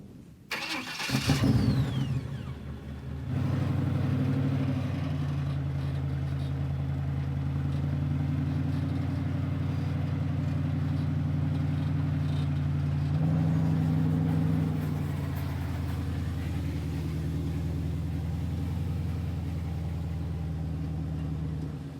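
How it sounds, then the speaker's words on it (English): A tow truck wrecker's engine cranks and catches after a brief clatter, then settles into a steady, loud, close rumble as it drives off, the tone rising slightly midway before easing back down. "jump in the wrecker and start driving"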